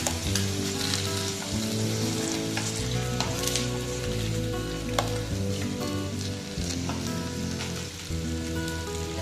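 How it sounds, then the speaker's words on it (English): Goan beef steak sizzling in its own juices in a pan, a loud continuous frying hiss with scattered pops and crackles throughout, a low hum underneath. "See how well the steak is getting cooked in the juices itself."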